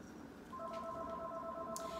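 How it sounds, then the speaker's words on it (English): A house telephone in the background gives a faint, steady electronic tone that begins partway through and holds, quiet and distant, with no talk. "Don't mind my house phone in the back."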